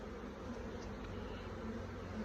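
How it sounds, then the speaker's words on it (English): Honey bees buzzing around an open poly nuc hive during an apiary inspection of Langstroth frames, a dense steady drone close by with no talk. "bees from the extensioned poly nuke box"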